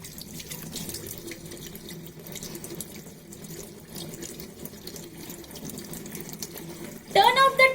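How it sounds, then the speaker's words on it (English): Tap water running steadily into a sink while hands are rinsed, a continuous close splashing hiss that holds for several seconds before a brief louder clatter at the end. "rinse your hand nicely. Make sure that you wash it properly."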